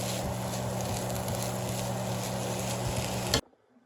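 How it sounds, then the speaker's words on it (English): Cabbage and butter stirred in a hot frying pan make a steady, close sizzle with faint scraping, running evenly before cutting off abruptly near the end. "Mix it very thoroughly so that all of your cabbage gets a little bit of that butter."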